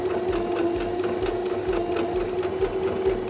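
A sewing machine stitches a zigzag seam along a denim jeans cuff, its needle beating in a fast steady rhythm with a low motor hum, close and continuous with no talking.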